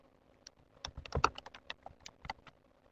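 Someone types on a computer keyboard in quick, irregular bursts of crisp key clicks, close and fairly quiet, with nothing else heard.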